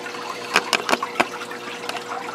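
Water tipped from a container into a brackish aquarium tank, a burst of sharp splashes and glugs followed by a softer trickle, close by, with no speech.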